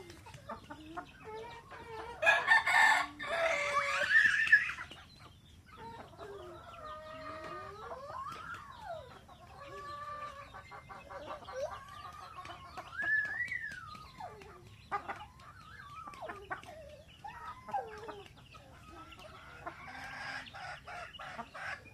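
Chickens cluck and squawk continuously in an open outdoor farm space, with a rooster's drawn-out crow rising and falling through the middle, moderately loud.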